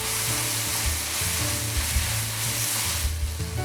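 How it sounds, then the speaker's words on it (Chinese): Green and red peppers and scallion whites stir-fried in oil in a wok sizzle loudly and continuously, close up, with stirring and tossing throughout, while cooking a spicy beef and scallion dish. No voices can be heard. "加适量青红椒同炒"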